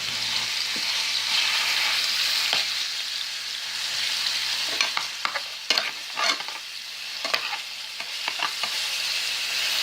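Ground pork with green and red peppers and onions frying in a pan, a steady bright sizzle with repeated scraping stirs growing busier toward the end, no talk.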